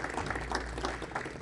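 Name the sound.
applause for a poet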